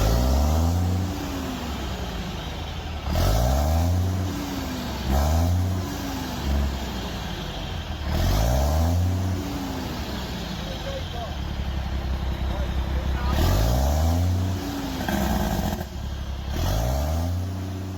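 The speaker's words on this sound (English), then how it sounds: "Here's a little video of him revving the engine." A Cummins diesel engine in a Foden truck revs repeatedly, each rev rising and falling in pitch over a steady idle, with a voice talking between revs.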